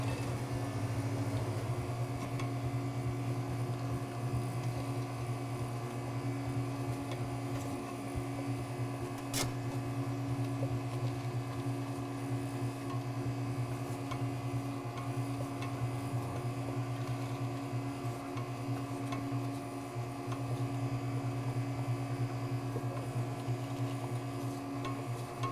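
A batch freezer machine churns Oreo cookie ice cream with a steady, loud mechanical drone and low motor hum that runs unbroken from start to finish, with no talking.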